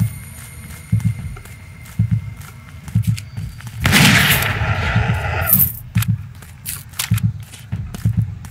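Gunfire in the horror hunting game Witch Hunt, with a steady run of footstep thuds broken by a loud burst of noise from a shot, then the steps carry on.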